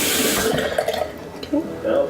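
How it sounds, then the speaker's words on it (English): Tap water runs steadily into a sink during a night-time face-washing skincare routine, a close, continuous splashing rush with faint voice-like sounds underneath. "I hate keeping the water running for no reason."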